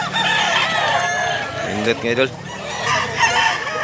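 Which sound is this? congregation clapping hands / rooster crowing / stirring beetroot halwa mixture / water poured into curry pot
rooster crowing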